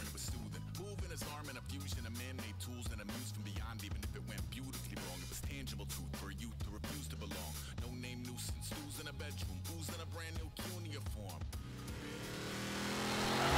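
A car engine in the racing video game Forza Horizon 3 drones loudly and steadily, its pitch rising and falling through repeated rev cycles before a rushing surge at the end.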